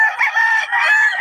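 A young rooster (stag) crows once, a single fairly loud, near, slightly raspy call lasting just over a second with no voices over it.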